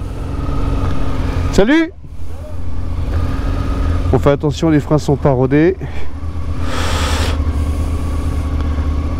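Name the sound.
engine of the speaker's new motorcycle, the 'coccinelle', running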